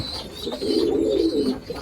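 Pigeons cooing close by, a single low throaty coo rolling for about a second over faint background noise.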